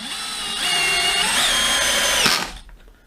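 Cordless DeWalt DCD701 brushless 12V drill driver runs with its clutch engaged, a close, steady high whirring with a ratcheting edge for about two seconds before winding down.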